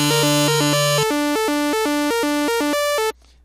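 A tempo-synced percussive synth arpeggio built in Massive plays a rapid, evenly pulsed sequence of bright stepping notes over a sustained low tone, loud and alone before cutting off abruptly.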